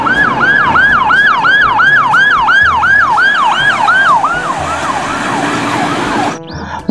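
Toy ambulance and police car siren sounding loud and close, a rapid repeating whoop-like wail of about a dozen cycles that fades and changes before ending abruptly.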